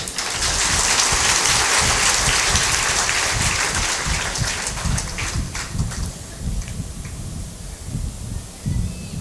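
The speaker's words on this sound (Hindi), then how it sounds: "ताली भी जोर से बजाओ।" A religious gathering at a Guru Purnima festival in Kota, Rajasthan claps loudly together, a thick roar of many hands that sounds almost like heavy rain, then eases into a slightly sparser, rhythmic patter.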